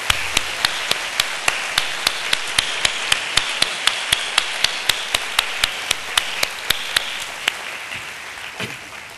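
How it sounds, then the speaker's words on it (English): Audience applause at a graduation ceremony, a steady run of sharp, evenly spaced claps ringing through a large hall before tapering off, with no talking over it. "join me in giving a round of applause to show our appreciation to these three very special groups of people"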